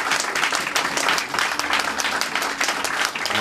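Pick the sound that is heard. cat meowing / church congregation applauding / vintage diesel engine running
church congregation applauding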